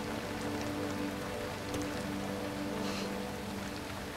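Heavy rain pours down in a steady, even hiss with no break or change in intensity.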